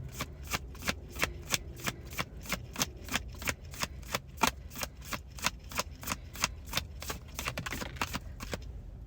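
Starseed oracle cards are shuffled by hand in a quick, regular run of crisp riffling snaps, close and fairly quiet, ending abruptly.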